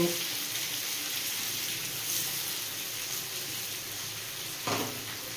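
Sugar goes into a pan of fried mango pieces for mango pickle, with oil sizzling steadily and closely throughout and a brief clatter near the end, without speech.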